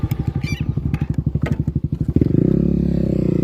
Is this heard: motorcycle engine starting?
yes